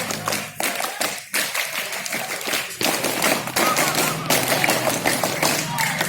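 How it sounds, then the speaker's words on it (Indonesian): Indonesian scouts at a Pramuka camp-out at an elementary school perform the rhythmic scout clap twice, sharp patterned group claps ringing out loudly in bursts with crowd voices underneath. "2 kali tepuk pramuka."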